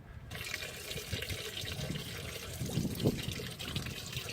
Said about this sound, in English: until it starts to dribble out. And then I got this funnel right here that I'll try to catch a lot of it with